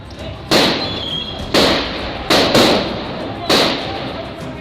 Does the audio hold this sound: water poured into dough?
no